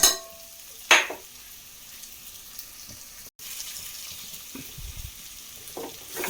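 A ground paste mixture is stirred in a cooking pan, with a soft steady sizzle throughout, a sharp scrape near the start and a few dull spoon knocks later on, close and moderately quiet, with no talking.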